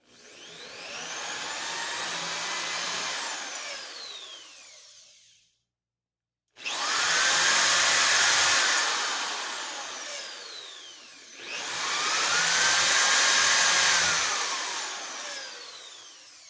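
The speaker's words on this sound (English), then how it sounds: "we're going to drill a pilot hole, well, 2 pilot holes through the top piece of wood" A cordless drill bores two pilot holes through a top board of wood into the piece below, each a sustained whirring run of several seconds, close and loud, separated by a brief silent pause.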